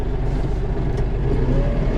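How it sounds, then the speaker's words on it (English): A snowblower tractor with a front blower driven by the PTO revs up to working RPM, a steady loud engine roar holding throughout with a slight rise in pitch and no talking. "Rev it up, proper RPM."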